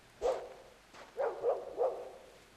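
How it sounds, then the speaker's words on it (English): A dog in the video game The Lost Crown barks four times in a loose rhythm, short moderate barks with small gaps and no talking. "I'm gonna pet the dog."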